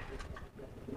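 A giring pigeon coos softly during flight training, giving a brief, faint, low warbling call in a quiet outdoor setting.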